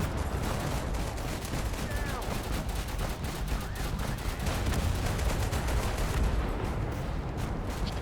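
Gunfire in the video game Total Conflict: Resistance, a steady dense crackle of rapid shots and bursts running the whole time at an even loudness, like a continuous firefight.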